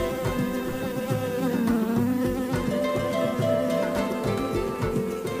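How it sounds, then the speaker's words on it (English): A buzzing bee in a children's church preschool puppet skit drones loudly and continuously for about five seconds, wavering in pitch, with no talking over it. "It appears that a bee is distracting Gerard Giraffe."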